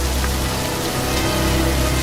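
Steady rain falls outdoors, a dense continuous hiss of drops hitting surfaces at a moderate, even level with no voices.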